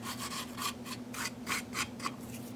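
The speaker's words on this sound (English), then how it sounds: "I'm kind of rubbing where I don't want glitter." A finger rubs glue stick off a paper snowman sign, making a series of short, dry scratchy strokes in an uneven rhythm, close and quiet over a faint steady hum, with no speech.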